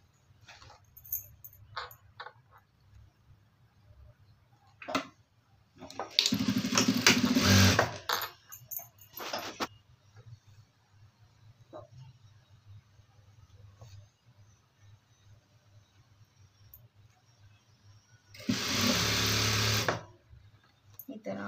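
A sewing machine stitching a blouse runs in two short loud bursts, one lasting a couple of seconds and a second near the end, with quiet handling noises and light talk between them.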